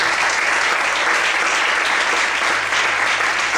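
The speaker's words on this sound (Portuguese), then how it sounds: "Você pode desocupar a sua mão e aplaudir ao Senhor nessa noite." Steady, dense applause from a church congregation fills the space without a break, loud and continuous, with no voices standing out.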